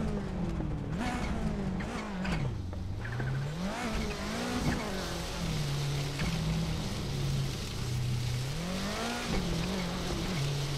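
Ken Block's rallycross Ford Focus, an all-wheel-drive car on tarmac tires, drives a rallycross course with a continuous engine note that rises and falls as it revs up and eases off, mixed with tire noise, loud and close throughout.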